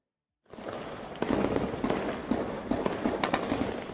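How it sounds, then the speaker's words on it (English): Gunfire echoes across Kabul during a Taliban suicide attack at rush hour. Sharp cracks ring out in an irregular rapid series after a brief silence, each shot reverberating off the surroundings. "Gunshots echoed in Kabul as Taliban suicide bomber detonated a vehicle during rush hour."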